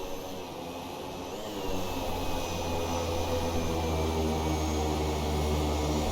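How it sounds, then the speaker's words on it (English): An airliner in the X-Plane flight simulator engages reverse thrust, the steady jet roar swelling louder after a couple of seconds and holding as a dense, continuous engine drone with a thin high whine. "airplane reverse works, which I think is really, really cool."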